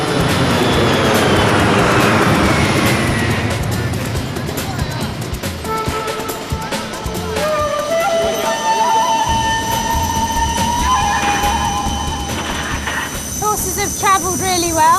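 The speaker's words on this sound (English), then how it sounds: "An hour later, the plane arrives." A passenger airplane carrying race horses arrives, its jet engines giving a sustained loud whine and roar with tones sliding downward, joined by hissing and mechanical noise as it comes in.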